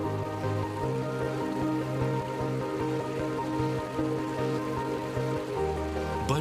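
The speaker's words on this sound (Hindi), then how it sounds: "फिर मूसलाधार बारिश होने लगी।" Heavy rain pours down onto a southern African salt pan, a loud, dense and steady hiss of drops striking the ground with no gaps, ending in a brief low rumble.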